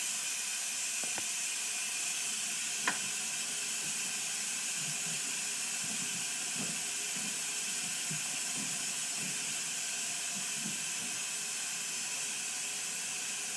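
An electric pressure cooker holding country style ribs vents steam in a strong, continuous hiss for the full length, close by, with faint clicks and low rumbling beneath it and no talking.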